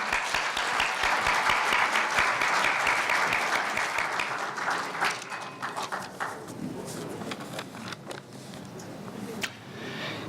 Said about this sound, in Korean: 모두 큰 박수로 환영해 주세요.